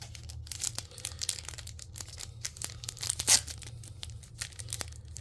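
Acrylic trading card packs for The Apothecary Diaries are torn open up close, with repeated crisp tearing and crinkling bursts of plastic wrap and one sharper rip, all over a low steady hum.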